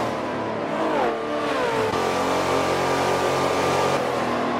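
Race car engine in Forza 7 during a race at Homestead, droning loudly and continuously alone, its pitch sliding down through a shift then holding a high steady whine.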